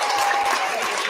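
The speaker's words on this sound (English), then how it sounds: "Can we get a nice big round of applause for all of our bus awards?" Steady crowd applause at a school student recognition ceremony honoring bus award winners, dense and continuous for a brief moment.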